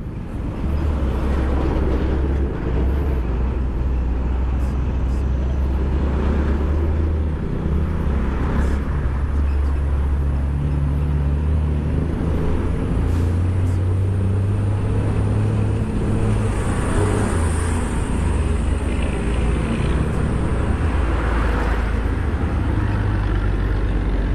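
A Motorstar Easyride 150CL motorcycle accelerating hard on the road during a speed run, its engine drone steady and loud throughout with rising pitch, heavy wind buffeting and road noise.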